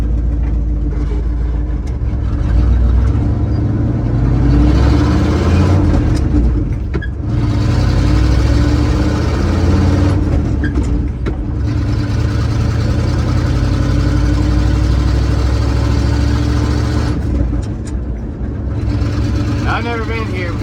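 A car driving over a rough, rutted road, with a loud, steady engine and road drone, low rumbles and occasional thumps and rattles from bumps; people talk over the noise throughout.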